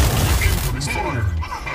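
Weapon fire booms and rattles in Mech Arena, a mech combat video game, forming a loud, dense barrage of low rumbling blasts that runs steadily through the whole short moment with a synthetic voice cue over it.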